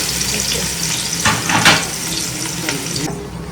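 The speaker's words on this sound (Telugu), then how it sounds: "నూనె కొద్దిగా వేడైనాక పెద్ద ఉల్లిపాయలు వేసుకోవాలి. పెద్ద ఉల్లిపాయలు, పచ్చిమిరకాయలు వేసుకోవాలి." Sliced large onions and green chillies fry in hot oil for a mutton head curry, giving a steady broadband sizzle with a few stirring scrapes partway through, close and fairly loud, with no talking.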